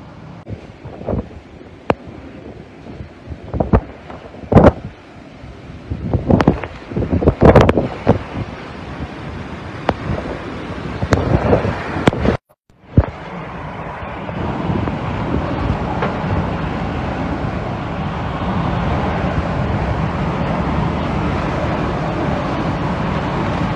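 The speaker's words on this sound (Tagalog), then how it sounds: "Grabe, ang lakas po ng hangin" Strong gusting wind from Typhoon Ulysses in the Philippines, 2020, roars and buffets the microphone, with rushing surges and a steady heavy blast after a brief dropout.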